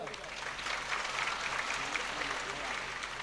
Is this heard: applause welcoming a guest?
yes